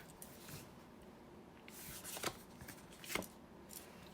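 Tarot cards shuffled and dealt onto a table, soft riffling and papery slaps with two sharper card snaps, quiet and close, no talking.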